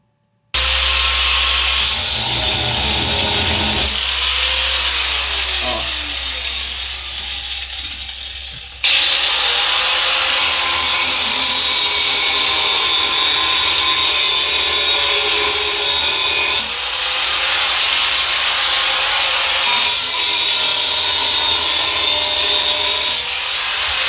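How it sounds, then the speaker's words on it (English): A hand grinder cuts out a steel knife blade profile with a loud, continuous harsh whine and gritty grinding, broken by brief drops in pressure as the cut shifts. "we used a hand grinder to cut out the profile of our blade"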